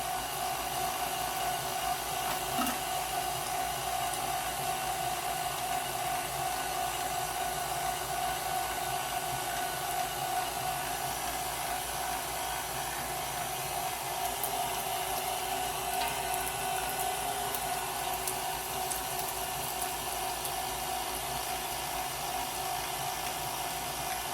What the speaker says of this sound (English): when you're grinding this much meat